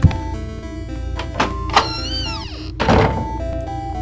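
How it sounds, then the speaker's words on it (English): In the horror video game Nanashi no Geemu: Me, a door opens with a sharp thunk, then a drawn-out creaking swing that fades, leaving quiet ambient tones alone. "Let's open up the door."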